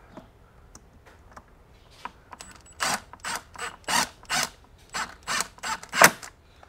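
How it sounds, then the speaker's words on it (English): A screw is driven into the mounting bracket of a 50 ft Giraffe Tools retractable extension cord reel, producing a close series of rhythmic ratcheting clicks and turns that end in a sharper final snap. "So we're gonna end up putting a screw here to keep everything secure."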